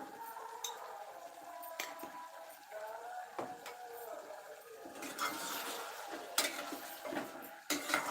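A spoon scrapes and clinks around a pan of masala curry, intermittent stirring strokes and light metallic knocks over a soft sizzle, close but faint.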